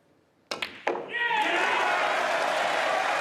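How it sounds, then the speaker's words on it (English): Snooker crowd at Alexandra Palace during a Masters quarter-final, a few sharp thuds followed by a sudden loud, sustained roar and applause filling the hall. "Mighty roar from this Ali Pali crowd"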